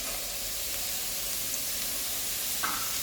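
Chopped cabbage stir-fried in a hot pan for fried rice, giving a steady, close sizzle and hiss throughout with a brief scrape near the end.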